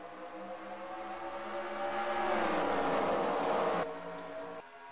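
Stock race cars accelerate at the Indianapolis Motor Speedway after a green-flag restart, a droning engine roar that swells and rises in pitch, then cuts away abruptly, moderately distant.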